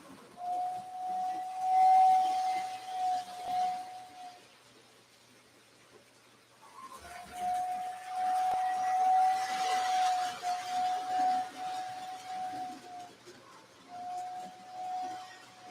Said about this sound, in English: So yeah, there's that single tone whistle.